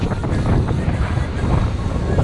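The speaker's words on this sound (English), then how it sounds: "Windy, windy, windy at the entrance of Suva Harbor." Strong wind buffets the microphone at the entrance of Suva Harbor, Fiji, while sailing, with constant low rumbling and gusty noise throughout, close and loud.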